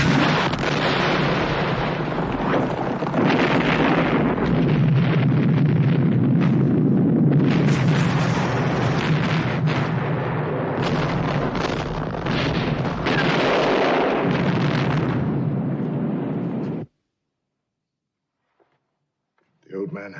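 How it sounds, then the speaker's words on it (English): Benzene fuel tanks explode in a desert war scene from the 1981 film Lion of the Desert, a long roaring barrage of loud, rumbling blasts that cuts abruptly to silence, followed by a brief final sound. "I'll blow up the benzene."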